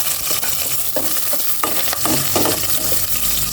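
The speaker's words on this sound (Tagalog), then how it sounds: "Igisa ko na itong bawang." Garlic sautéing in a hot pan with oil, a loud, steady sizzle with crackles and a few sharper spatters, heard close with no talking.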